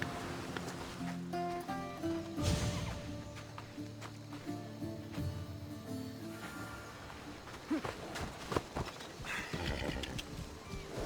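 Horse hooves clip-clop during a ride in a video game, mixed with a neigh and a game music score, steady and close throughout.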